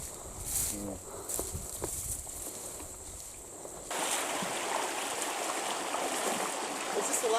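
Feet wading across a shallow river on a hot hiking track, water splashing and sloshing close by, quieter at first and then a louder steady rush of moving water.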